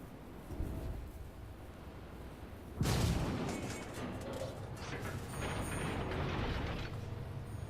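Battleship guns boom in a naval warfare game: one heavy, sharp blast lands partway through, surrounded by rumbling, clanking mechanical noise and a duller earlier thud.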